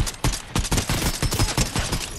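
Rapid bursts of gunfire from a Fortnite match fill the whole clip, loud and dense, with repeated sharp shots in quick succession and no talk.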